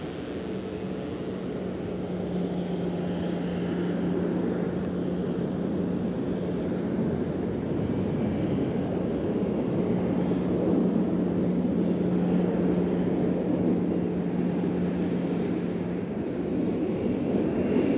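A distant airliner from Atlanta rumbles across the far side of Nashville International Airport, a steady low engine roar that holds evenly throughout, with a faint high whine drifting in partway.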